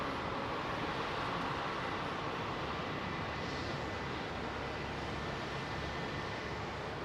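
Engines of an Airbus A350 XWB spool up as power is applied at London Heathrow, a faint, steady distant rushing roar with no voices.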